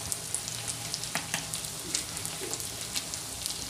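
Onions frying with ginger and garlic paste in a pan, a steady soft sizzle with scattered crackles and pops, moderately quiet, no talking.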